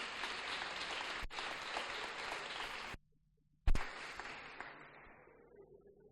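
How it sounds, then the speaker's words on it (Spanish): Audience applause at a Grupo Hepta gathering: steady, dense clapping for about three seconds, a short silent break, then a fresh burst that gradually thins and fades away. "otro aplauso por favor"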